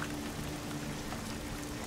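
Rain falls steadily on a beach, a dense, even hiss of drops with no letup, fairly faint and with no voices over it.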